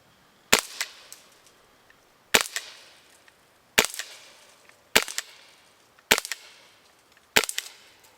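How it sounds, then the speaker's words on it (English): Prepared 2 Protect Secure 68P launcher fires six sharp shots, evenly spaced about a second and a half apart, each a crisp loud crack with a short decay, with no talking in between. "So again, we're going to shoot off 6 more rounds,"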